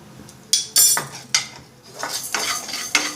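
Rice and lentils dry-roasted in a pan for manjal pongal, heard as sharp metallic ladle scrapes and clanks against the pan at irregular intervals over a soft rustle of grains, close and fairly loud, no talking.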